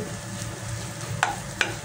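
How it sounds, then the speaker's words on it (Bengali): Rohu fish roe frying in a pan until crisp, a steady sizzle with two sharp clinks of a spatula against the pan near the end. "আমি এই ডিমটাকে ভালো করে চড়চড়ি করে ভাজা ভাজা করে একটু সুন্দর করে"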